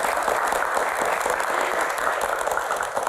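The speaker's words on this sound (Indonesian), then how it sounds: "Tepuk tangan buat teman-teman semuanya." Studio audience of university students applauding, a steady dense patter of clapping throughout the short stretch with no speech over it.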